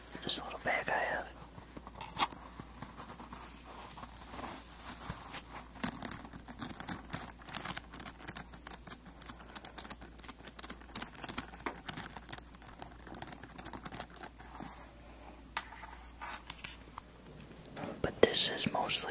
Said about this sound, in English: And other sounds like this little bag I have.